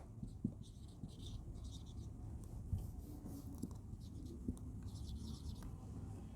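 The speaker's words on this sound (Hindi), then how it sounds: "मैं एक चीज़ लिखती हूँ" A teacher writes by hand, making faint, soft scratchy strokes with small taps as the pen moves. The sound is quiet and close, with no talking.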